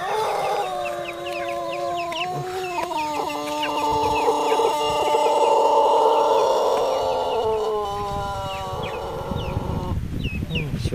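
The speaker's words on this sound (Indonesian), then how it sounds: "Ini ayam tadi yang berkokok nih." A rooster crows loudly and at length in a village among rice fields, its call rising and holding, with other birds and a faint background voice around it.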